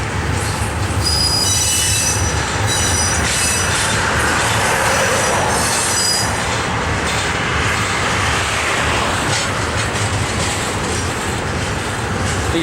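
CSX freight train rolling through Pinoca Yard, wheels squealing loudly in high shrieks over a continuous close rumble and clatter of cars passing, with no talk.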